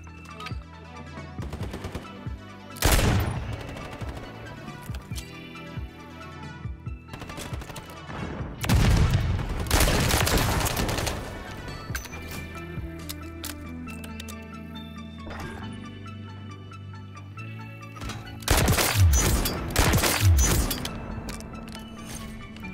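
Pistol gunfire in the video game Modern Warfare 3, a heavy hand cannon firing in loud bursts of rapid shots around 3, 9 and 19 seconds, over a continuous game soundtrack and ambience.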